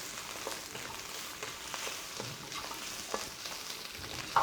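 Chanterelle mushrooms sizzle and crackle in a frying pan while a utensil stirs them, producing soft scraping strokes over a steady hiss, close and alone without voices.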